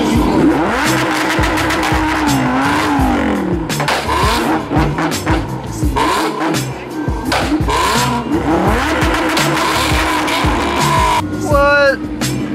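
A Lamborghini and a Pontiac 350 race at a car show, their engines loud and close, revving hard with rising and falling pitch, gear changes, and tire squeal near the end, while people shout and talk over it.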